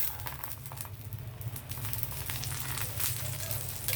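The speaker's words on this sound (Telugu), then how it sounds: "ఇప్పుడు మళ్ళీ దీని చుట్టూ మనం ఆయిల్ వేద్దాం" An egg burger patty fries in a pan as oil is poured around it, giving a continuous crackling sizzle that swells and falls slightly, close and alone with no talking.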